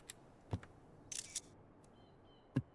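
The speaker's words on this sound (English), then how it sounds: "stupid shutter sound when you take a screenshot." A camera shutter effect from taking a screenshot in Final Fantasy XIV, heard as a brief double click-burst over quiet background, with a few faint soft taps before and after.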